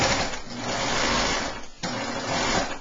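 A coverstitch machine runs steadily, sewing elastic onto fabric with a dense, continuous mechanical whir and a brief stop partway through before the stitching resumes.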